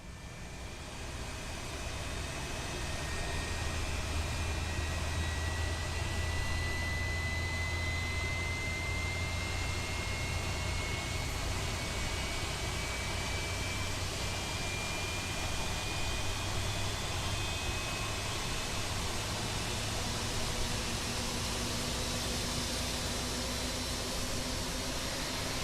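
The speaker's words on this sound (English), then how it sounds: "during the pushback, let's listen to the engine start sounds" Boeing 737 MAX engines spooling up during an engine start in a flight simulator game, heard as a steady, loud broadband roar with a faint rising whine that holds for the whole stretch, with no talking.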